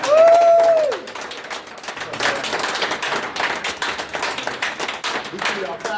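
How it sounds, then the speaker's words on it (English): An audience claps for the mayor at a visit to a recently renovated senior center, a few seconds of scattered, moderately loud applause that follows a brief tone and continues steadily to the end. "Let's give our mayor a round of applause."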